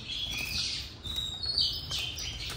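Oriental magpie-robin singing near a home, a run of bright, fairly faint chirps and warbled notes against soft background hiss, with no talk.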